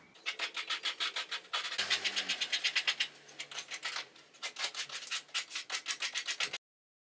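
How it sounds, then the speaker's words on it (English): Hand-sanding a wood surface to roughen it and remove glue residue: rapid rhythmic back-and-forth rubbing strokes, close and fairly loud, with a short pause partway through before the strokes resume and stop abruptly. "I'm just going to rough the surface a little bit to get off the glue residue"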